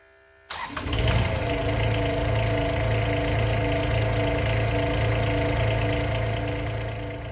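A glow-plug diesel engine in an AMR500 supercharged car cranks briefly, catches with a sharp burst, then settles into a steady, loud, even idle with a low rumbling hum and faint rhythmic knock.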